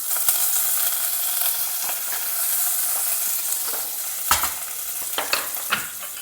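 Chopped green chilies and curry leaves crackle in hot oil with jeera and hing, a bright steady sizzle broken by sharp pops and stirring clicks near the end, close and alone.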